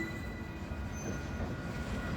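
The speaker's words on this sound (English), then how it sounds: "Here's the end of the train, by the way." A train passing by in Old Montreal's Old Port, with a steady rumbling roll of rail cars and a faint high wheel squeal running through it, moderately quiet and continuous with no talk.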